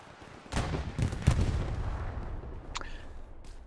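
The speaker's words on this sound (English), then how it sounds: "Getting shot at the OP." Gunshots in a video game, loud bursts of shooting close by with a sharp crack near the middle, then fading to quieter, more distant shots.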